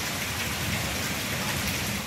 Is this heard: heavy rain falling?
yes